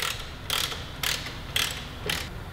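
A ratchet backs nuts off the Ohlins shock bolt of a 2018 Suzuki GSX-R1000, producing close, rhythmic bursts of clicking roughly every half second with brief quiet gaps between.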